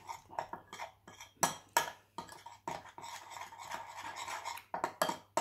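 A spoon scrapes and clinks against a small bowl as a homemade natural face and body cleanser is stirred until it dissolves, in irregular bursts of close scraping with brief pauses between strokes.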